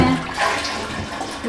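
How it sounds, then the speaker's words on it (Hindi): A bathroom toilet flushes in a short, continuous rush of water, close and fairly loud, with no voices over it. "फ्लश भी चेक कर लेते हैं।"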